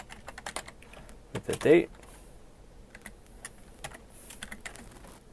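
Keys tapped on a computer keyboard while a project name is entered, a run of soft clicks spread across the stretch with a denser burst near the middle, heard under a voice speaking.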